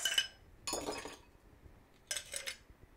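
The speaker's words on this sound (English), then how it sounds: "Just going to put some ice into it." Ice cubes clink and rattle into a chilled glass in three short, bright bursts separated by brief pauses, close and fairly quiet.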